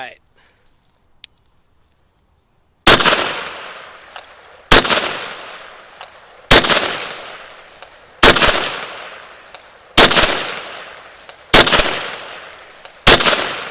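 Rock Island Armory XT 22 Magnum Pro pistol firing seven loud, sharp shots spaced about two seconds apart, each cracking report trailing into a long outdoor echo, after a quiet stretch at the start.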